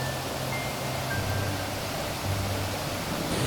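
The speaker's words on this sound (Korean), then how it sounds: "초입에서부터 우리를 반겨주는 시원한 계곡 물소리." Cool mountain valley stream in late summer at Gombaeryeong, Jeombongsan, Inje, Gangwon, a steady even rush of flowing water heard close and continuous with no voices.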